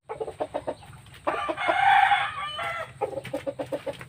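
Pet chicken clucking in short rhythmic bursts, then letting out a loud drawn-out crow before returning to quick clucks, close and clear.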